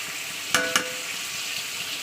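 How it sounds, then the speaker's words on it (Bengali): Pumpkin pieces dropped into hot oil, two quick splashy hits followed by a soft continuous sizzle, close up. "ওই তেলে আমি দিয়ে দেবো কুমড়োগুলোকে"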